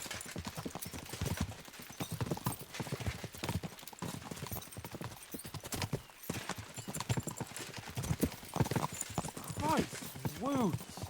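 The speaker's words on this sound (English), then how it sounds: "We should spur the horses on!" Horses clip-clop at a gallop in the medieval video game Kingdom Come: Deliverance II, a steady drumming of hooves with a few whinnies near the end, under character dialogue.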